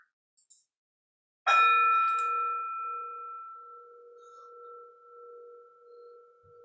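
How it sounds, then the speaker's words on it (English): A gong is struck once during a Unitarian Universalist service, after a few faint taps. The bright, ringing tone then hangs and slowly decays for several seconds in a quiet room. "We ring the gong 3 times."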